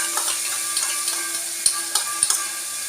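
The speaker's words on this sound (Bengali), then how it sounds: "দিয়ে আমি নাড়াতে থাকবো যাতে মশলাটা পুড়ে না যায়।" Poppy seed paste and yogurt mixture cooks in a pan with a low constant sizzle while a spoon stirs, giving several light ticking knocks against the pan.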